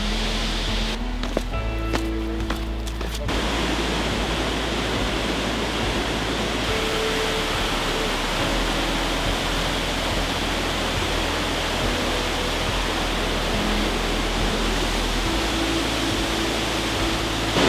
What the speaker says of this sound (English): We think we found Mcdonald Falls.